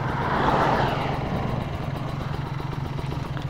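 A motorcycle engine fitted with a TM 34 carburetor idles steadily with a low, even, slightly lumpy rumble, close and continuous throughout with no talk.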